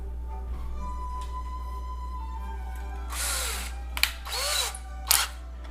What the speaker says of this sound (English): we were drilling holes